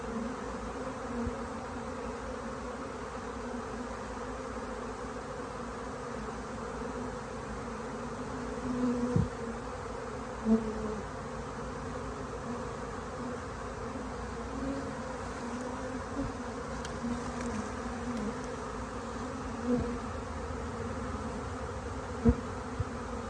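A honey bee swarm hums steadily during a hive capture outdoors, a continuous dense buzz with occasional louder bees passing near and faint knocks, no talking.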